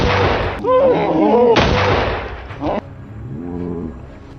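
A hunting rifle fired at a charging wild boar in a cornfield setting booms loudly once, then a second heavy report follows, each shot leaving a rolling echo over ambient noise.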